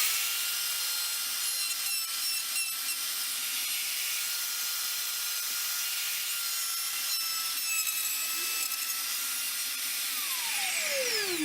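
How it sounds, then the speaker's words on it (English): A router climb-cuts a wooden candle holder clamped tightly in a mill, giving a steady, loud, continuous high whine and hiss that holds unbroken throughout, with a falling tone near the end as the bit winds down. "I will be climb routing in this situation because it's tightly fastened in the mill."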